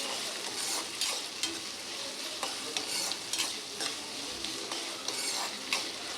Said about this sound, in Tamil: இப்போ இந்த வெங்காயம், தக்காளி, வெள்ளைப்பூடு, பச்சை மிளகாய் இப்போ இது எல்லாத்தையும் இப்போ நல்லா வதக்கி விட்டுக்குங்க.